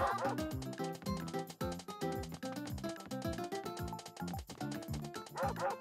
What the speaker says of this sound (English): Go away, dog, go!